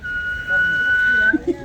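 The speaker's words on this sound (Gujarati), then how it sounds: "આટલી જ સીટી આવડે મને" A person whistles one long steady high note, close and fairly clear. Brief voice sounds come in near the end.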